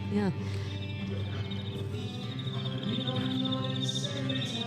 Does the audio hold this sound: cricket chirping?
yes